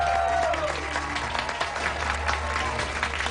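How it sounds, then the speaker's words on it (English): Applause from the red and blue teams and crew after a shift in a MasterChef restaurant service: dense, steady clapping from a group filling the space, close and loud, with a faint voice briefly underneath. "Give yourselves a round of applause."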